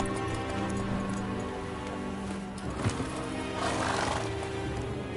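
Roach, a horse in The Witcher 3 video game, neighs and whinnies close by over clip-clopping hooves, with a light patter like rain in the background.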